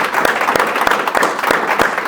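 An audience claps for Dwight in a steady run of applause, with sharp, evenly spaced claps repeating about three times a second throughout, close and fairly loud.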